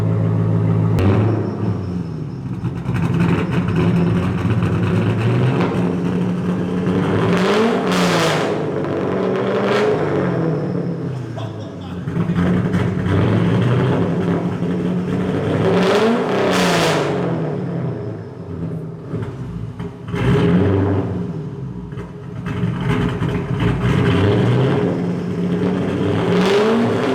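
A turbocharged Ford Mustang with a freshly fitted aftermarket exhaust, revved repeatedly around 4,000 rpm, each rev rising and falling in a loud, close roar over a steady idle rumble, cycling several times.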